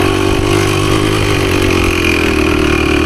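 A Husqvarna PE250 dirt bike engine holds third gear at an easy pace on a trail, a loud, close, steady two-stroke drone with slight wavering in pitch and no voices.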